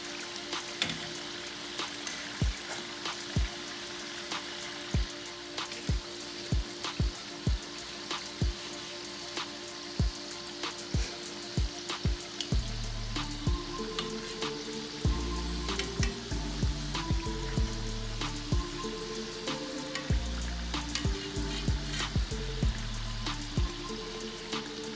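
Belizean panades fry in rather hot oil, giving a continuous close sizzle studded with sharp crackles and pops, joined midway by a low, rhythmic tonal backing.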